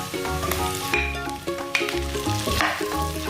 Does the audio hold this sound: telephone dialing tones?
no